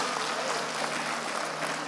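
A church congregation claps together during a sermon in a steady, dense patter of applause that fills the room for a couple of seconds.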